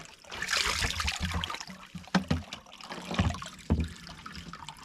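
River water scooped and splashed by hand while fetching it, with irregular close sloshes and a few sharp splashes over a soft trickling background, no talking.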